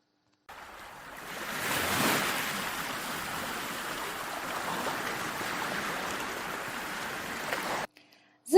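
Steady washing surf of sea waves, played during a children's pretend boat trip at sea, a continuous rushing swell lasting about seven seconds with a brief rise near the start, then cutting off abruptly.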